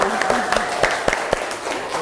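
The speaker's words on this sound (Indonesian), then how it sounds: "Oke, kita aplaus dulu." A classroom audience applauds during a group presentation session, with sharp individual claps over a crowd wash and voices talking across it.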